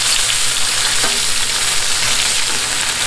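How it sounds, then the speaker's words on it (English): Bacon sizzles and crackles steadily on a hot Blackstone griddle as strips are flipped and moved to the hotter side, a dense, even frying hiss close by with no talking. "I'm going to move this bacon, I'm going to flip it and move this over to this hotter side"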